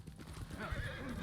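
A horse in the video game Ghost of Tsushima neighs with a rising whinny over clip-clopping hooves, moderately loud and close, in a short burst.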